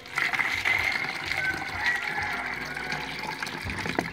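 Fermented rice water poured into a 1.5 litre plastic bottle, a steady gushing, gurgling stream that fills continuously for several seconds, loud and close with no talk over it.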